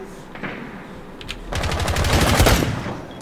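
Gunfire in Rainbow Six Siege: a heavy-kicking gun lets off a dense burst of rapid shots, loud and close, after a quieter stretch with a few scattered sounds.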